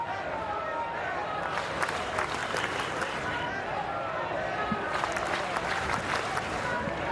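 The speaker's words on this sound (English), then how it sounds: "JetBlue crowd coming alive" Spring training baseball crowd at JetBlue Park cheering and clapping as the Red Sox tie the game with an RBI single, a steady, dense roar of many voices throughout, with a commentator talking over it.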